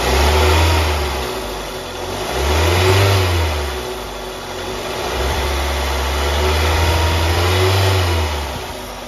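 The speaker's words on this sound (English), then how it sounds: "Just give it a rev." A warmed-up Toyota Celica GT ST202 engine is revved repeatedly, rising and falling in several smooth swells over the idle, loud and close with no talking.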